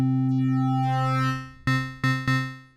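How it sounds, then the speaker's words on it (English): A sustained, buzzy synth tone with a warped, distorted timbre from a deformed oscillator shape, followed by three sharp re-triggered notes in quick succession. "If you change the shape, your sound will be deformed."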